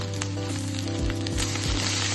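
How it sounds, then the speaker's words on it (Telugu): Onions frying in a pan with ginger-garlic masala while okra masala is cooked, a steady close sizzle running throughout with no one talking. "1 స్పూన్ అల్లం వెల్లుల్లి మసాలా వేసి పచ్చి వాసన పోయే వరకు వేయించుకోవాలి."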